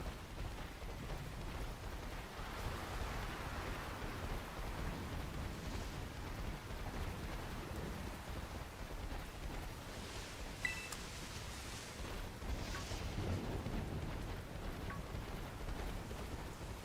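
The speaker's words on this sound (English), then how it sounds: "When did it start raining?" Steady rain falling in a Pokémon video game, a constant soft hiss at even loudness throughout, with a few faint higher chimes and game effects mixed in and no talk.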